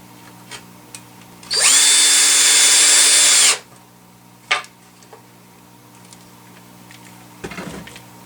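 A power drill on its weakest setting whirs loudly for about two seconds at a steady high speed, followed by a couple of clicks and a brief rustle.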